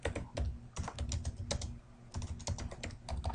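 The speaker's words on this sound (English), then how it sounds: "you're just going to type what you want to say" Rapid typing on a computer keyboard, close and clear, with steady clusters of key clicks and a few heavier keystrokes, no talk.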